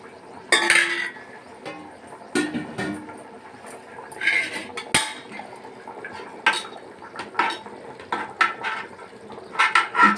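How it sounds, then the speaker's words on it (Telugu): Boiled chicken pieces are lifted into a metal bowl, with repeated clinks and scrapes of a utensil against metal, irregular knocks and clatters spaced through the stretch, fairly close and at moderate loudness. "ఇప్పుడు చికెను గిన్నెలోకి తీసుకోవాలండి"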